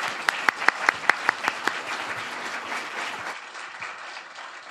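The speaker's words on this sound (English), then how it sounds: "let's give another warm round of applause" Audience applause at a university dean's speaker series event, opening with a few sharp nearby claps over a dense wash of clapping that thins and softens in the final second or two.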